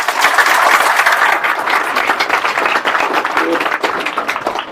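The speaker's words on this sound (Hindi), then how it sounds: "ताली बजाओ मेरे लिए" A motivational-talk audience breaks into steady, dense applause that holds for several seconds at close range, fading slightly toward the end, with no voices over it.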